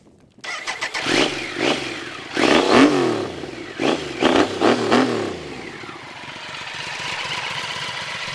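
A 1997 Triumph Trident 900 triple-cylinder motorcycle cranks and fires up, then revs several times in loud rising and falling bursts before settling into a steady raspy idle, close by with no talk.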